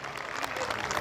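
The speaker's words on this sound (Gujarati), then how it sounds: "તાળીઓના ગડગડાટ સાથે એક વખત એમના દાનને વધાવીએ" An audience at a community gathering claps to honour a donation, a brief dense burst of applause from many hands, fairly distant and even.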